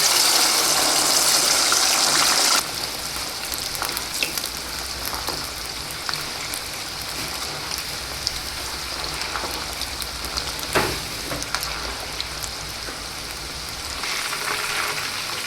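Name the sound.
cluster beans and potatoes frying in oil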